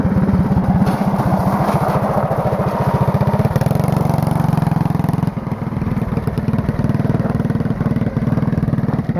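A damaged small generator engine runs at about half throttle, slightly rich, a loud close rapid clattering putter with a steady rhythmic firing pulse, faltering briefly midway before continuing, no voices.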